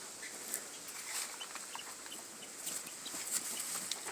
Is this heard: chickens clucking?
yes